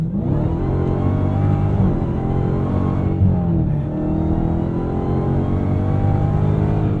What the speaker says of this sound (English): Hemi V8, glorious, vicious Hemi V8.